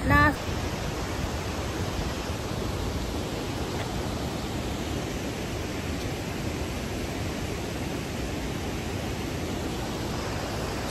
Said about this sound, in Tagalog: ang lakas ng agos ng falls. Kaya ito naririnig nyo dito ang ingay